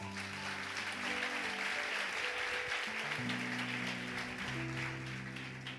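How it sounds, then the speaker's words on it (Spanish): A church congregation claps loudly in praise during a Spanish-language sermon, a sustained wash of hands over held instrumental chords from a keyboard or organ underneath. "Denle un aplauso fuerte al Señor"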